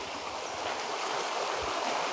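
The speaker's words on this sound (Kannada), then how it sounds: "ನೀರು ಬರ್ತಾ ಇರೋದು" Rainwater flows in a stream beside a garden near a suspension bridge at Ranganathittu Bird Sanctuary, giving a steady, soft, continuous rushing wash heard alone.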